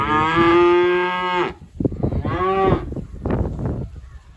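Weaning calves on a farm moo loudly and close by, one long drawn-out bawl followed by shorter overlapping calls from others, with some rustling and shuffling in between.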